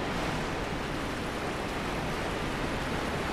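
A waterfall in the video game Dark Souls gives a dense, steady rushing roar, loud and continuous with no breaks.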